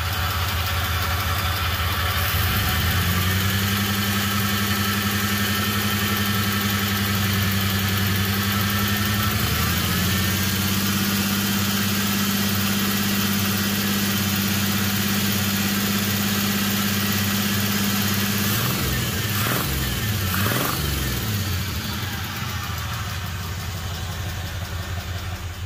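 Car engine idling steadily with a low, even hum and a faint repetitive tick riding on top, a brief rise and fall in pitch partway through before settling back to idle, continuous and close.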